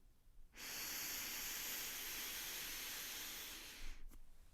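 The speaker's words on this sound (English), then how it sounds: "Keeping your finger on the left nostril, we're now going to breathe back in" A slow, steady nasal inhalation through the left nostril during alternate-nostril breathing, a close breathy hiss lasting about three and a half seconds before stopping, with no talking over it.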